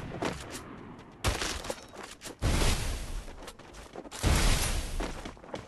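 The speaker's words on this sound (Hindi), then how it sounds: "हेडशॉट करा रहा है, शॉट करा रहा है वो तो" Gunshots in a mobile battle royale game come in several loud bursts of rapid fire separated by short pauses, sharp and close, with no talking over them.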